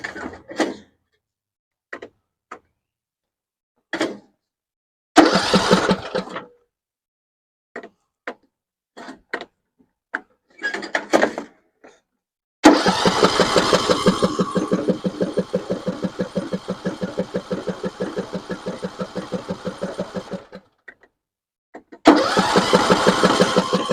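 A John Deere lawn tractor engine with the choke on is cranked several times. Short starter bursts break up long silences, and then a sustained, rhythmic chugging crank runs for about eight seconds before it stops and another attempt starts.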